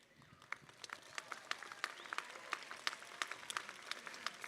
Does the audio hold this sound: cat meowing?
no